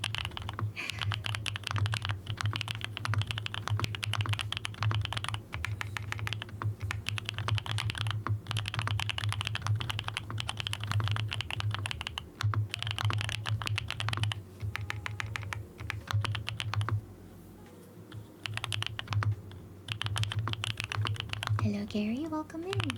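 Fast, continuous clacking of keys on a mechanical computer keyboard, close and crisp with rapid bursts and brief pauses, over a low steady hum from a running PC; a voice can be heard faintly under the typing at moments.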